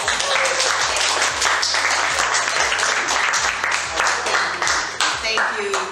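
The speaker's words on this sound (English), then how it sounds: "A round of applause." Audience at a book event in San Francisco applauds a speaker taking the stage, loud continuous clapping with a low rhythmic musical beat underneath and some voices.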